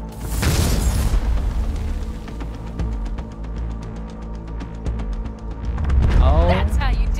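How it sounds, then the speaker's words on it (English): A heavy explosion blast strikes an aircraft in the video game Cyberpunk 2077, giving a loud booming hit with a rumbling tail over steady engine-like drone, then a second swell of roar near the end. "No way it stays in the air after a blast like that"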